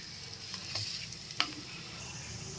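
Bay leaves and curry leaves fry in oil in a village-style kitchen, giving a faint, steady sizzle with a single sharp stirring click partway through.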